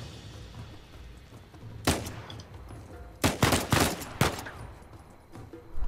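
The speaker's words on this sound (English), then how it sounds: "He's still shooting." Gunfire from an enemy shooter in the video game Uncharted 4: a single sharp shot, then a quick cluster of several loud bursts and one more crack, close and punchy over low background rumble.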